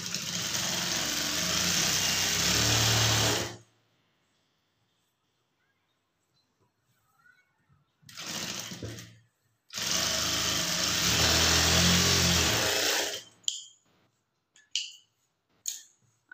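An electric sewing machine stitches the lining edge of a blouse, whirring in a long close run, then a short burst, another long run, and a few brief stitches separated by quiet pauses.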